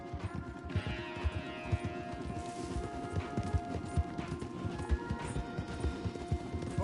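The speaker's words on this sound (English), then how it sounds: "Okay, let's dismount here. We won't get the horses down this path." Horse hooves clip-clopping in steady rapid rhythm as horses are ridden through trees in the Red Dead Redemption 2 video game, close and continuous over ambient game sound.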